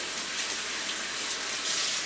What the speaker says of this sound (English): And then go ahead and rinse out the whole sink.